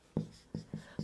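The Korean verb 공부하다 is hand-written during a grammar lesson. Four short, soft strokes land close together within about a second, distinct against a quiet background.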